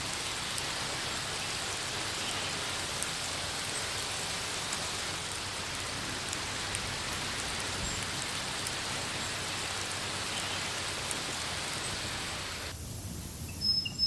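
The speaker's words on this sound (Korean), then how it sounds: "비가 대지를 적십니다." Steady rain falls on the ground in a drought-stricken wild landscape, a dense, even hiss that holds unbroken for the whole stretch before thinning slightly near the end, with no voices.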